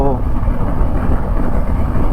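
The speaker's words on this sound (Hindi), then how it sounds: "विंड ब्लास्ट बहुत ज़्यादा आ रहा है" Strong wind blasts across a highway on the way from Dharamshala toward Delhi, making a loud, steady low roar and buffeting rumble that continues without a break.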